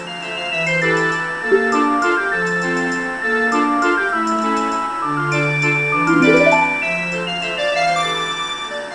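A melody from The Legend of Zelda: Ocarina of Time, a bright sustained ocarina-like lead over a lilting waltz accompaniment of steady low notes and plucked chords, continuous game music with no talking.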